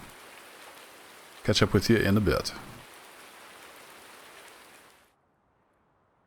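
Rainfall in the farming simulation game Farming Simulator 19, a steady low hiss running under a brief spoken line, then continuing alone before cutting to silence near the end.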